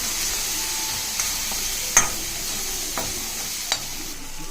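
A pan sizzles steadily with a tomato mixture frying for Bombay chutney, broken by a few sharp scraping stirs of a utensil against the metal.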